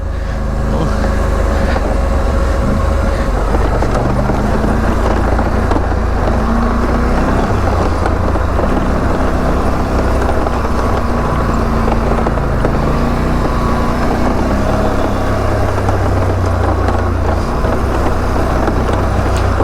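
A vehicle's engine braking in low gear as it creeps down a steep mountain trail; a steady, loud drone with shifting engine tones under heavy wind noise, continuous for the whole stretch.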